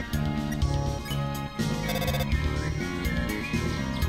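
A phone rings in the Undertale video game as a loud, continuous electronic chiming melody that repeats in even pulses over a steady musical backing.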